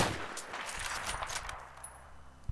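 Gunfire in the video game Battlefield 3 comes as a rapid cluster of sharp, moderately loud shots that thin out toward the end, with no talking during the burst.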